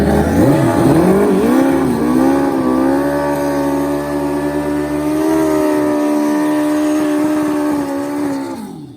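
Turbocharged Hayabusa street motorcycles at a pro street drag race, loud sustained high-revving engine roar that climbs through gears and holds near the microphone before easing off at the end.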